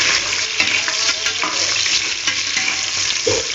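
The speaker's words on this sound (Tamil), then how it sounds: "இப்போ நம்ம கட் பண்ணி வச்சுருக்க வெங்காயத்தை இதில் சேர்த்துக்கலாம். வெங்காயம் நல்லா முருகலாக வதங்கட்டும்." Chopped onions frying in hot oil in a pan for a vegetable biryani, stirred steadily, with a continuous close sizzle and scraping strokes of the spoon throughout.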